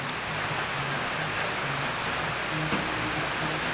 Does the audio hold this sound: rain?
yes